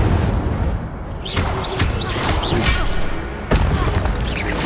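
Spells cast in Hogwarts Legacy gameplay, including the Incendio fire spell, produce repeated close booming bursts and whooshing crackles, with sharp impacts near the start and again later.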